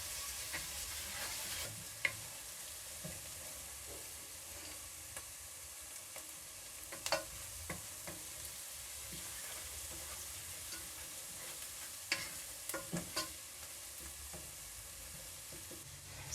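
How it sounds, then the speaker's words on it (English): Garlic sizzles steadily in hot oil in a pan for omena (small dried fish), with spoon scrapes and clinks recurring as it is stirred continuously; moderate level, no talking. "So immediately after adding your garlic, make sure to stir continuously"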